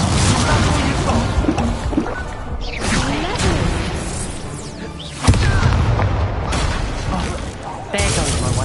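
Fiery spell blasts from the Incendio charm in the game Hogwarts Legacy, loud whooshing bursts and booms repeating over a dense game soundscape, with sharp impacts around five and eight seconds.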